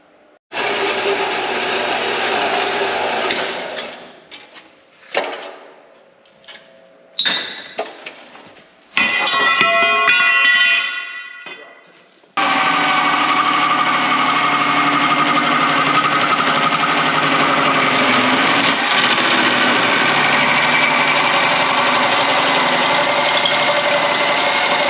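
Steel roll cage tubing being cut for a 1956 Bel Air with a Cummins engine: several short, stop-start bursts, then a long, steady, harsh cutting drone close by, with no talk.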